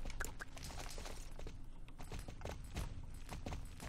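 Horse hooves clip-clop steadily in the Star Stable video game, a brisk rhythmic walking beat of Welsh pony hooves heard alone at a moderate, fairly close level.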